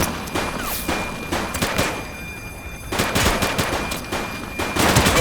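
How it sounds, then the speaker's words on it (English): Rapid gunfire from police shootouts in The Precinct, with dense bursts of sharp shots crackling in clusters, a brief lull in the middle, then another heavy volley to the end. "Shots fired!"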